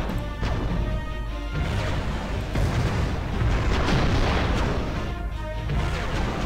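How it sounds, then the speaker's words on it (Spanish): In the tank combat video game Mad Tanks, gunfire and explosions form dense, continuous noise, with heavy booms and crashing impacts piling on one another throughout. "Ronda de balazos."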